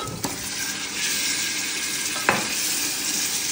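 Meat being stirred into softened onions in a pot, a steady bright sizzle with a couple of sharp spoon knocks against the metal, close and continuous.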